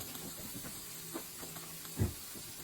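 Onions softening in a pan on the stove give off a faint, steady sizzle with a few soft pops, heard alone at low volume.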